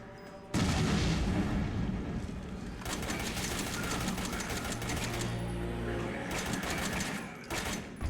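Bomb explosions in the survival horror game Resident Evil 7, loud booming bursts followed by sustained rattling, crackling blasts that come in several waves and then stop short.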